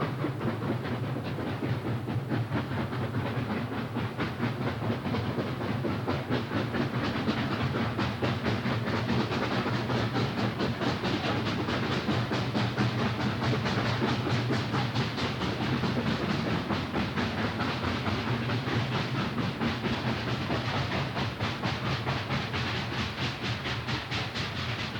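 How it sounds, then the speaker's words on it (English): A steam train climbs Cataract Hill in Ontario in 1959, laboring continuously, its heavy chuffing and rumble mixed with hiss and rhythmic clatter, loud and unbroken throughout. "That's what we just heard coming up with our train."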